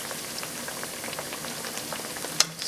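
Steady, dense crackling and sizzling of plantains frying in hot oil, close and even, with a brief sharper pop near the end.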